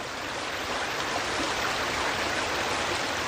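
Waterfalls in New England give off a steady, loud rush of falling water with no voices and no break.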